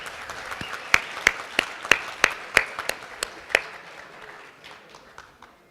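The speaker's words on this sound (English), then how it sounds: "how about one more round of applause for Sue Watson?" Audience applause after a personal testimony about the Phoenix Lights at a stage event: a round of scattered, distinct claps that peaks briefly and then thins out and fades.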